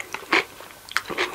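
Crisp crunching bites into spicy pickled cucumber, a few sharp close crunches spaced irregularly with quieter chewing between, no talk.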